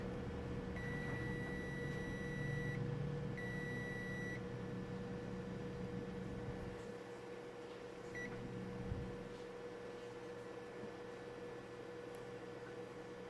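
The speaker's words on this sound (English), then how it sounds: "Beep means short circuit." Two steady, high electronic beeps from a multimeter continuity test indicating a short circuit on a Samsung Smart TV T-CON board, each about two seconds with a short gap between, over a constant hum; a brief faint chirp follows later.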